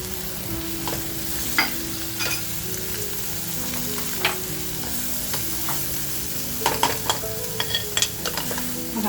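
Tomato and masala fry in a pan over a high flame for mutton kaleji masala, a continuous close sizzle broken by intermittent scraping and clinking of a spatula stirring against the metal.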